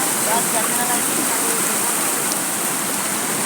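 Flood water rushes steadily across the ground in a community during flooding, making a loud, constant broadband roar with no break.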